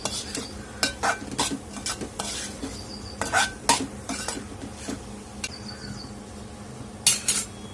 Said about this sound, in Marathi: चवीनुसार मीठ घालून घ्यायचे आपल्याला आणि छान याला परतून घ्यायचं आहे